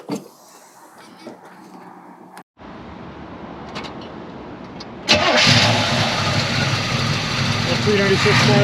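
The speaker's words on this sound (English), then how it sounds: "The 396 fires right on." A 1970 Chevrolet Camaro SS with its original numbers-matching L34 396 big-block V8 cranks briefly, then fires and settles into a loud, close, rumbling idle, with someone talking before it catches.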